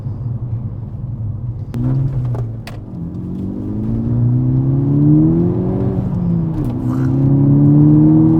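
A Mk6 Golf GTI Edition 35 fitted with an upgraded exhaust accelerates close by, its loud engine note climbing steadily through the gears with a deep rumbling drone and no talk.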